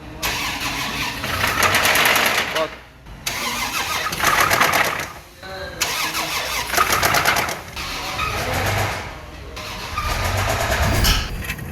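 A damaged Land Cruiser engine, broken by a clogged catalytic converter, revs in loud, close bursts with a harsh rattling knock, dropping back between each rev.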